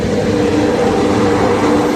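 A new LHB-coach Yercaud Express train arriving at a station on the Erode–Chennai Central route, heard as a steady, loud, continuous rumble and rolling drone with no talk over it.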